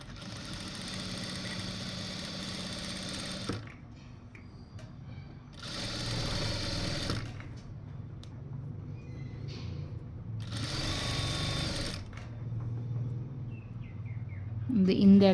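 A sewing machine stitches along a piping edge in three rapid mechanical bursts separated by quiet pauses, with faint bird chirps and a little talking in the gaps.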